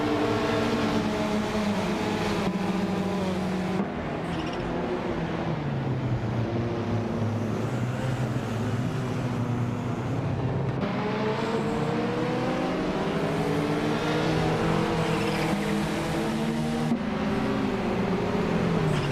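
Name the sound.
race cars driving in a racing video game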